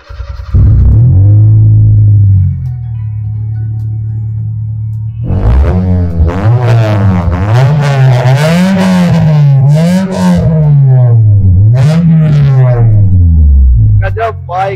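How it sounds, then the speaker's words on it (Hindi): A Honda City with its stock engine and a free-flow exhaust idles with a deep burble, then gets blipped through a run of loud, close revs that rise and fall repeatedly. "इसके अंदर हमने फ्री फ्लो एग्जॉस्ट लगाया है, आपको दिखाते हैं, आप पीछे एक बार देखिए।"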